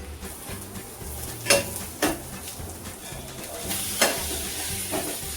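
Stir-frying in a pan with soy sauce, vinegar and spring onion: a steady sizzle with occasional sharper scrapes and clinks of a utensil against the pan, moderately close, no talking.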